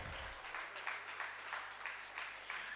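At an Onam programme held by a Kerala Samajam, a lone child claps slowly and a little unevenly, faint and distant in a quiet hall, with no other applause joining in.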